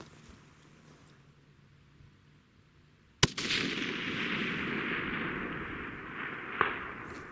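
A single sharp rifle shot from a Browning X-Bolt Hells Canyon Long Range in a McMillan stock, fired outdoors at a target 820 yards away, one loud crack followed by a long rolling echo.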